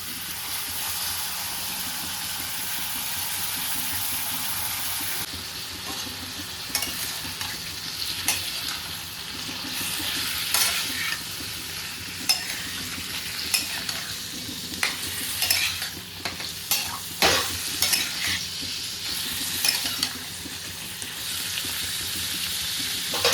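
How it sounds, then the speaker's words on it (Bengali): Boneless chicken frying in butter in a pan, a steady sizzle with repeated scraping stir strokes and occasional spoon knocks, close and continuous with no talking. "বাটারের মধ্যে আমি বোনলেস চিকেনগুলোকে ভেজে নেব"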